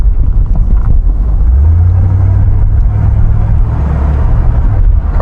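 A 1973 Chevrolet Corvette Stingray coupe rumbles on a test drive, its engine a loud, deep, steady drone heard from inside the car, swelling slightly as it pulls.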